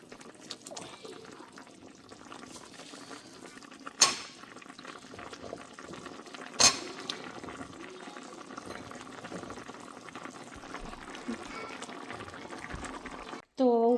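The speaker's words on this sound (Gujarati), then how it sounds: "તો જુઓ આ ઉકળી રહ્યું છે પાણી" Water boiling in a pot on a home stove gives a faint, continuous bubbling simmer, broken by two brief clanks and a short noise at the end.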